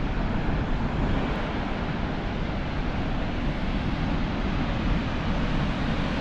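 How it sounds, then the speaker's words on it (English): Tia Falls sends a large volume of water down toward the Tia River, producing a steady broadband roar heard from a distance, mixed with wind buffeting the microphone, with no talking. "There's an amazing amount of water flowing down there."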